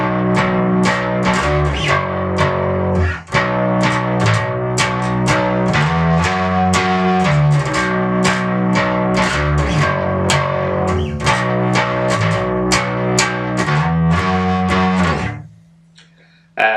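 Distorted bass guitar plays the intro to a song in E standard tuning, with a loud, driving run of rhythmic picked notes. It cuts out near the end, leaving a quiet sustained hum.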